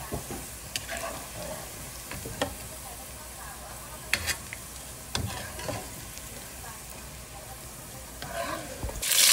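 Sliced onions crisping in hot oil in a pan, a steady sizzle punctuated by sharp spatula clicks and scrapes against the metal at irregular intervals.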